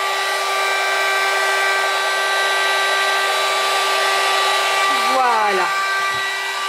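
A heat gun warming craft material blows a continuous, loud, close whirring rush with a steady tonal whine. Near the end the pitch briefly dips and a single short word is spoken.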